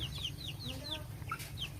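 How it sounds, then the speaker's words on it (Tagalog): Soft clucking from a pair of feather-footed chickens, a rooster and a hen, mixed with chirpy bird calls over a low background hum, fairly quiet. "may alaga kaming manok na may balahibo sa paa"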